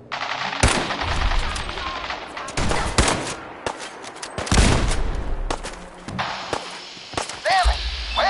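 Sustained bursts of automatic gunfire and single shots from the video game Fallout 4 at a police station, loud and dense with overlapping rapid fire, heavy booming impacts and brief gaps, with voices shouting now and then.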